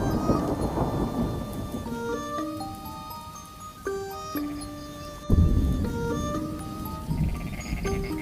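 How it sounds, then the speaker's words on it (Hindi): Rain falls steadily with rumbling thunder in a cartoon bird story set in a jungle, as dark clouds arrive after trees are planted in pits; a sharp thunderclap breaks in near the end, while bright musical tones play over the storm. "बहुत अच्छी तरह से बारिश होने लगती है।"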